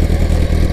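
A Yamaha R1 sport motorcycle engine running a CO fuel tuning check makes a loud, close, steady low throb with a slight dip in revs partway through.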